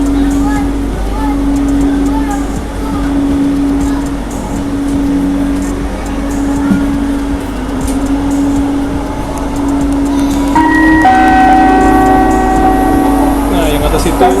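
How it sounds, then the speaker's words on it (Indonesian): An LRT Jabodebek light rail train on the Bekasi Line runs steadily with a continuous low rumble and droning hum, joined near the end by brighter tonal whines as it moves, with no speech over it. "Welcome to LRT Jabodebek Bekasi Line. This train is bound for Jatimulya."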